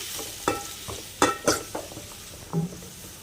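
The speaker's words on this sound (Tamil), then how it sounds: "நல்லா வதக்கி விட்டுடலாம்" Shallots and chopped tomatoes are sautéed in a pan for mutton gravy, with a quiet background sizzle and a few distinct spatula scrapes and knocks against the pan.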